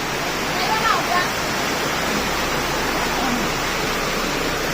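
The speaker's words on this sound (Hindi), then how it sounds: "रोड मन में थोड़ा बहुत देखे तो बूंदाबांदी चलत है मतलब पानी हल्का फुल्का टिपकत है" Light drizzle falls on a road, a steady soft hiss of rain filling the background with little variation, plus a brief faint sound near the start.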